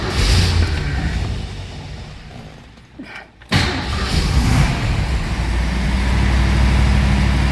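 A 1969 Ford Mustang Mach 1 with a Super Cobra Jet V8 runs loud and close, cuts out briefly, then cranks and catches again, settling into a steady rumbling high idle.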